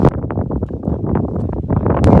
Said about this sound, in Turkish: Hava da rüzgarlı, yağmurlu, çok soğuk